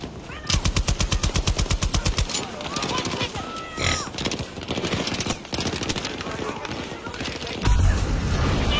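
Rapid machine-gun bursts in Battlefield 2042 with light machine guns, a loud steady rattle of evenly spaced shots at first, then mixed gunfire and impacts continuing under excited talking.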